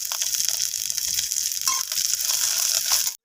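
Whole cumin, dried chilli, five-spice seeds, crushed cardamom and ginger crackle and sizzle in hot oil, a close, steady hiss with small rattling pops before it cuts off abruptly.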